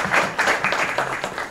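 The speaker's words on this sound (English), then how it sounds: "Please give them a big round of applause." A short burst of clapping from a small group at a school committee debate, fairly close, with uneven hand claps that fade quickly.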